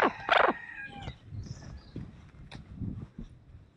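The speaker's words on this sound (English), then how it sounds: "Oh wow, look at this bird." A rooster on Terceira Island in the Azores crows once, loud and close, then gives a few softer clucks over faint background rustling.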